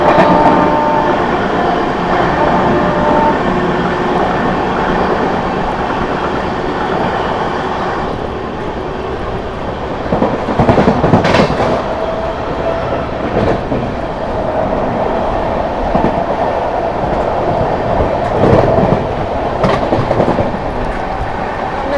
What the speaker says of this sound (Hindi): आगरा फोर्ट लखनऊ एक्सप्रेस के साथ हमारी क्रॉसिंग हुई है